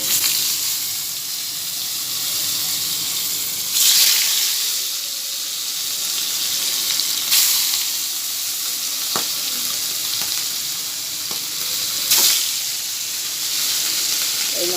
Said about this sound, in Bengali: মানে প্রচুর ছিটবে তেল